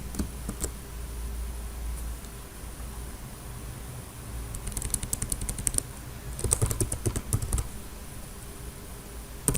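Typing on a computer keyboard while writing React component code, with soft key clicks that come in faint scattered taps and then thicken into denser, louder bursts of rapid keystrokes midway and near the end.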